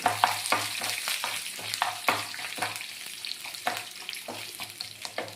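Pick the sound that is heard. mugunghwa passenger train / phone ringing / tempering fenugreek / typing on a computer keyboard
tempering fenugreek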